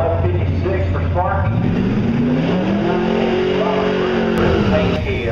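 A 1969 Camaro drag racing car, slick black, roars with a loud sustained engine note that rises and falls in pitch as it accelerates down the strip, with a commentator's voice over it.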